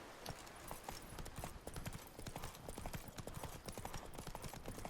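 Geralt's horse Roach trotting in the video game The Witcher 3: Blood and Wine, a steady, brisk clip-clop of hooves continuing throughout at close range.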